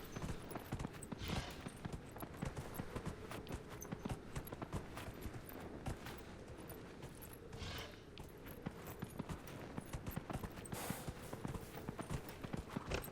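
Horse hooves clip-clop rhythmically in the fantasy video game Dragon Age: Inquisition, a steady quick beat of game footsteps at moderate level with faint background mechanisms and no talk.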